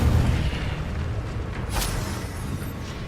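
A fiery Incendio spell blast from Hogwarts Legacy lands as a low, rumbling boom with a brief sharp burst near the middle, fairly loud and sustained across the moment.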